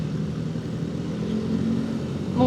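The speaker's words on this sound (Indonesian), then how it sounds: "Tuh yang dari Cileunyi mobil gede-gede ya" Large vehicles roll past in busy traffic on a road heading from Cileunyi toward Bandung, a steady low engine and tire rumble that swells slightly near the end, with no talking.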